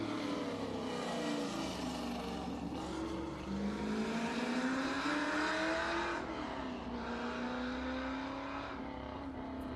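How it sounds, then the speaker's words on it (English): A Mercury Cougar with a 7-litre big block V8 roars hard at a sprint meeting, its deep throaty engine note rising and shifting through gears, loud and continuous throughout. "7 litres of big block V8."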